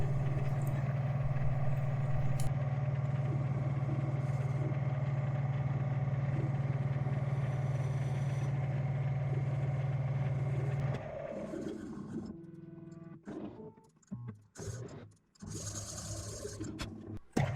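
A metal lathe hums steadily with a constant motor drone while facing the hub of a steam engine flywheel, then the tone drops away after about eleven seconds into quieter scraping, clunks and handling noises.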